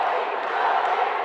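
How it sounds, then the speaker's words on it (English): Boxing crowd at a lightweight (135 lb) bout roaring steadily behind a Namibian fighter, a dense, sustained wall of cheering and shouting that stays loud throughout. "crowd goes behind the Namibian here to go on and finish what he have started here"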